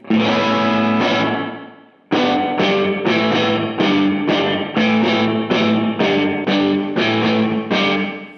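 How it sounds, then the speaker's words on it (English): An electric guitar runs through a Valco Five-O overdrive, tremolo and reverb pedal with the reverb placed before the distortion: one long distorted chord fades out, then repeated chopped chords ring out with a smeared, saturated reverb tail. "it's distorting the reverb because it's going into the distortion"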